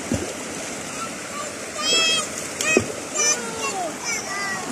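Water splashing as people bathe in a river, with irregular splashes and a voice calling out over a steady flowing-water background.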